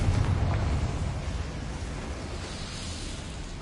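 A Confringo explosion spell blasts in Hogwarts Legacy, a loud rumbling boom with heavy low-end roar that holds steady and slowly fades over several seconds, with no talk.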